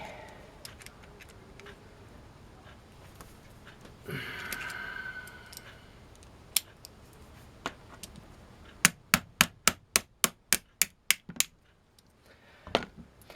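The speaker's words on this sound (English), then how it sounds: "that's why you don't hit it with a hammer, because it breaks off again" Sharp metallic hammer strikes, a few scattered blows followed by a rapid run of about ten evenly spaced hits, loud and close.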